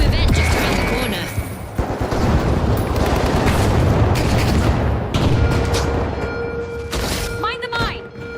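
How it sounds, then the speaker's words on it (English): A frag grenade goes off in the video game The Finals amid a dense, loud run of gunfire and booming blasts, with an announcer-style voice talking over the action. "Frag out! Throwing frag!"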